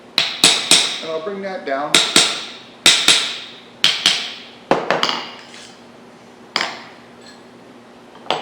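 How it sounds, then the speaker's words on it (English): A small hammer taps differential components together on a workbench: sharp metallic clinks in an irregular series of about a dozen strikes, close and crisp with short ringing decays, and someone speaks briefly between blows. "I'm just using a little wee tiny hammer"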